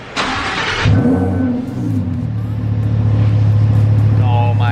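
A Lamborghini engine with a loud aftermarket exhaust cranks and catches, then settles into a loud, rumbling idle with a deep exhaust drone that holds steady.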